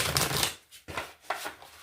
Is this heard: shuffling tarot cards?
yes